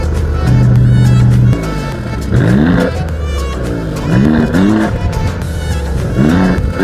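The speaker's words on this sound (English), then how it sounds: "here is that exhaust clip." A 2024 Maserati GranTurismo's exhaust roars loudly up close, with a steady idle-like drone broken by repeated rising revs that sweep up and fall back several times.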